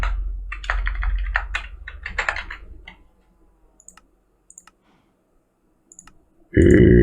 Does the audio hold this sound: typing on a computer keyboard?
yes